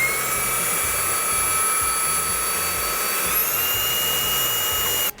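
A Woodman WMVC-02 cordless vacuum cleaner runs with a steady, loud motor whine and airflow hiss at close range, then cuts off abruptly at the end.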